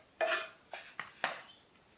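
Mixing pasta salad with basil, parsley, garlic and chopped cherry tomatoes makes four quiet clinks and scrapes of a utensil against a bowl, spaced unevenly and close up, with no talking.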